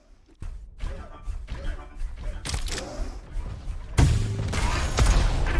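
Grenade blasts, starting-pistol shots and a bit of RPG fire in the arena shooter Diabotical, a dense run of sharp thuds and bangs that builds into louder blasts toward the end, with game noise throughout.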